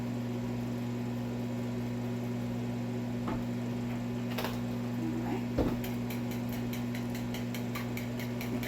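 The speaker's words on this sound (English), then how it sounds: "while we wait for the spinach to be done in the microwave" A steady low hum of a running microwave oven cooking spinach, with a few faint clicks and soft rhythmic ticking toward the end.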